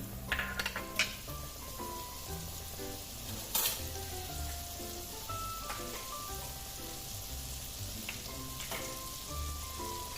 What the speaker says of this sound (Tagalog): Okay guys, ngayon ay maggigisa na ako. Meron ako ditong 50 grams na butter.